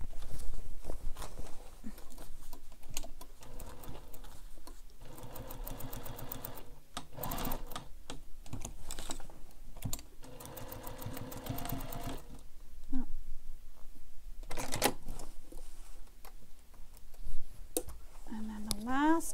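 A sewing machine stitching a carryall bag, running in bursts of rapid mechanical whirring with pauses and fabric handling between runs.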